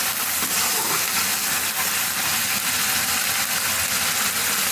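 Onion, garlic, ginger and green chili sizzle in hot oil for a green chicken curry, giving a steady, loud, hissing fry throughout with no pauses.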